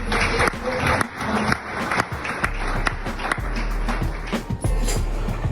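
Audience applause at a women's conference, a steady wash of many hands clapping with crowd noise throughout, loud and close, with a voice talking over it near the end.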